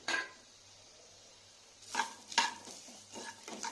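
Cumin, mustard seeds, fenugreek, slit green chilies and curry leaves fry in oil, with a soft sizzle and a spoon scraping and stirring the pan in short strokes, close and fairly quiet.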